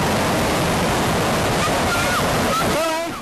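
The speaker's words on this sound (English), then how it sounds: "they still do get slammed by the powerful waves" Powerful ocean waves surge onto a Malaysian beach in a loud, continuous crashing roar with wind buffeting the microphone. Faint shouting voices rise over the surf near the end.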